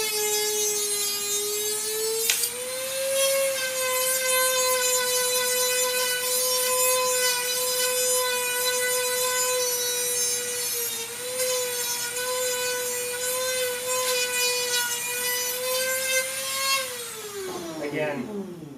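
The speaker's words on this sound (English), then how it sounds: "Again, take the Dremel, clean it up that way." A Dremel rotary tool trims and cleans up an assembly, its high steady whine running nearly continuously with slight pitch dips as it bites, then winding down at the end, loud and close.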